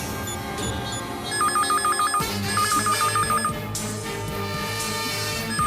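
A telephone rings indoors in a Tamil TV serial household scene, sounding as two bursts of rapid electronic trilling over background music, loud and close with no talk.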